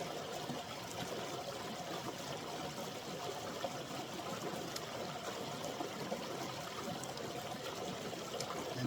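River water flowing and trickling steadily at low volume, a soft continuous babble with no one speaking.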